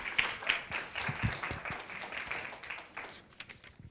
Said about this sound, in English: Let's have another round of applause for those graduates,